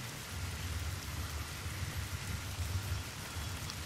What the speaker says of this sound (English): It's pouring down hard, man